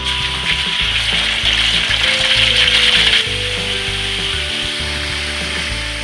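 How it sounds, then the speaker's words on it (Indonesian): Fish frying in hot oil for a spicy green-chili eggplant dish gives a steady, loud sizzle and crackle that runs unbroken throughout, with no talk. "Sekarang ikannya kita goreng."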